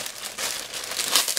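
Plastic wrapping crinkles continuously as a packaged t-shirt from a monthly subscription box is unwrapped, close and fairly loud, with no speech.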